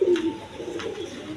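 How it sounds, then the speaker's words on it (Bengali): A pair of high-flying Giribaz pigeons gives a short burst of close, low cooing that then settles into a softer murmur, with no talk. "এখানে এক পেয়ার হাই ফ্লাইং গিরিবাজ কবুতর আছে"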